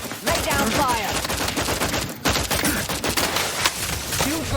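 Sustained, loud gunfire in the video game The Outer Worlds 2, a nearly continuous barrage of overlapping shots with one brief break, a voice faintly beneath.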